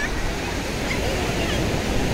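Ocean surf washes steadily onto Agonda Beach in South Goa. It forms a continuous broad roar of breaking waves with no distinct individual crashes, fairly loud and unbroken throughout.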